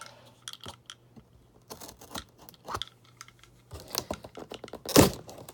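The factory seal on a box for an Axial Yeti 1/10 scale RC model is sliced and torn open up close, with scattered cutting clicks, tape ripping and crinkling cardboard ending in one loud tear, with no talk.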